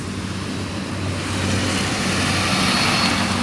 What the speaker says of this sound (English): I heard that truck that just went by.